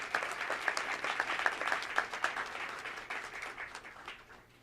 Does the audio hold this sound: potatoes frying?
no